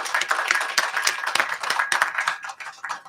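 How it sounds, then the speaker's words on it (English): A small gathering claps for a peacebuilding delegation, with a thinner, uneven patter of separate hand claps that tapers slightly near the end. "please maybe stand up and give that folks a big round of applause"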